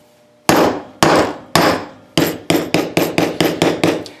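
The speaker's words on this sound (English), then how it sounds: "I like to just punch it a few hard strokes and then lighter strokes afterward" A hammer strikes a steel hole punch with sharp metallic blows, a few hard, spaced strikes followed by a quicker run of lighter taps, close and ringing.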